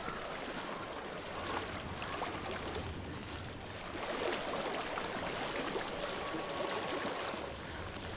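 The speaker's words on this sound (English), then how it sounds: "I hear water." Flowing stream water from the video game Hellblade: Senua's Sacrifice makes a steady broad rushing wash. It is constant and moderately loud throughout, with no voices over it.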